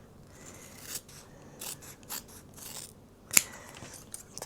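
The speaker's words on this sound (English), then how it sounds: "I don't know whether it's the scissors or the tape, it's making me cut really wonky" Scissors snip through a strip of fabric tape in a few quiet, scattered cuts, with one sharper snap near the end and soft rustling between.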